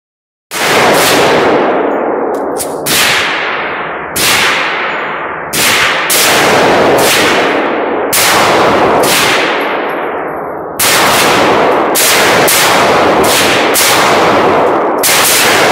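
A Taurus G2S pistol fires a rapid string of shots at a 6-inch steel target, each shot a loud crack followed by a bright metallic clang that rings on and overlaps with the next.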